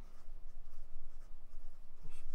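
Fountain pen with a fine nib, filled eyedropper-style with black ink, writing on Oxford Optik paper: a soft, continuous scratchy rustle of the nib gliding across the sheet, close and quiet, with no talking.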